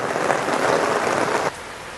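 Heavy rain pours down in a dense, loud, continuous hiss, easing slightly partway through.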